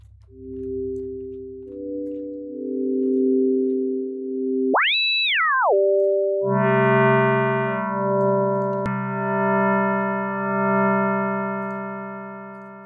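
Synthesizer tones shift as knobs are tweaked, with steady sine-like notes, a rising and falling chirp in the middle, then a brighter, richer chord that holds to the end, clear and with no talking.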